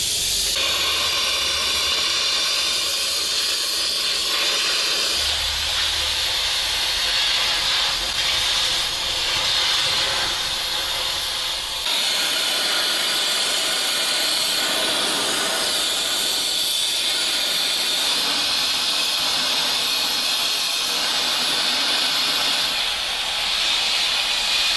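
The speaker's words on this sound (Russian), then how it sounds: "один кронштейн мотора спилили" A harsh, loud hiss of metal being cut runs continuously, rising and falling in pitch as the blade bites into an old steel engine-mount bracket on a ZiL-131 truck.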